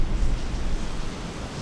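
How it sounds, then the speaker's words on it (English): Strong wind buffets an exposed ridge top, a steady broadband roar with gusty low rumble pressing on the microphone, loud and continuous with no voices. "Up here, the wind was even stronger than it was before."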